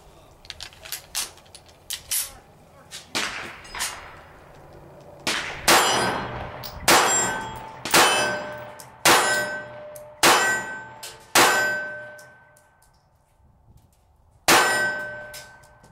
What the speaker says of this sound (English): let's try some more cheap aluminum cased reloads.